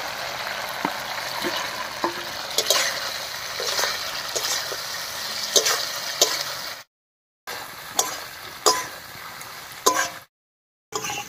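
Potatoes stir-fried in spice masala in a pan, with a steady sizzling hiss, sharp scraping ticks from the spatula, and two short stretches of silence.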